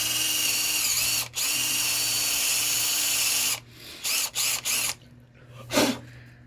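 A power drill whirs steadily for a few seconds with one brief break, then stops, followed by a handful of short bursts and clunks.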